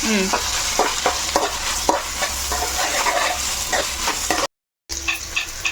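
Ginger paste frying in a pan while being stirred, a steady sizzle with repeated scraping strokes of the spoon, close and continuous, with a brief dropout near the end.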